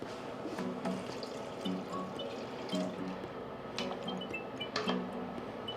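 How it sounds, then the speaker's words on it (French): Water is added to a pot of risotto as it cooks, giving a steady wet simmer with scattered drips, pops and soft splashes at moderate volume, with no voices. "Et on ajoute une deuxième fois de l'eau."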